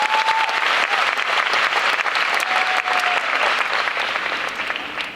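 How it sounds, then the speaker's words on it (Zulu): Sustained applause from an audience at a KwaZulu-Natal government event, honoring the Premier, steady and dense throughout with a few faint whistles. "ake nishayile ihlombe lembokodo"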